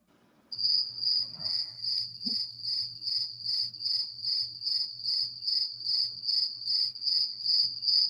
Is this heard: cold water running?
no